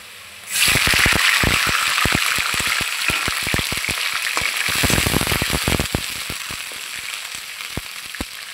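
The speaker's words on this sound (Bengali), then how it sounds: "এই যে পেঁয়াজটা আমার বাদামি কালার হয়ে আসছে, আমি এখন দিয়ে দেবো পরিমাণ মতো পানি" Water hits browned onions frying in oil, bursting into a sudden loud, gushing sizzle thick with crackling pops that carries on strongly and eases only slightly, with nobody talking.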